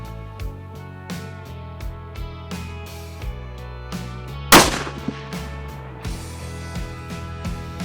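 A single sharp rifle shot from a Tikka T3X chambered in .260 Remington cracks loudly outdoors during a rabbit hunt, standing out against a steady, busy background.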